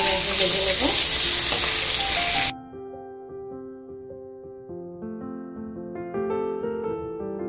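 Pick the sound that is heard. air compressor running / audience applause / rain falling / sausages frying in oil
sausages frying in oil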